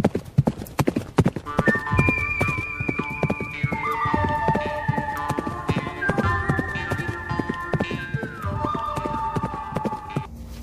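Horse hooves clip-clop as a sound effect for a Filipino radio drama, a brisk, loud, rhythmic trot of close hoofbeats throughout, joined by long whinnying neighs.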